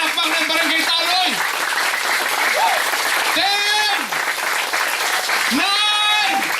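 Attendees from Barangay Taloy applaud at a church fellowship's first anniversary gathering in Pangasinan, with sustained clapping running throughout while a voice calls out loudly over the crowd in bursts.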